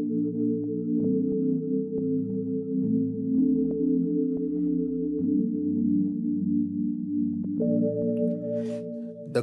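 Poly 6 synth chords with chorus and reverb, built in FL Studio for a deep house track, hold steady and shift through several changes, a thick sustained pad playing alone throughout.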